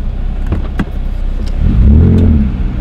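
Ford Mustang engine revving up from a rough idle, a close, loud rising roar that swells and then eases off after a few clicking sounds.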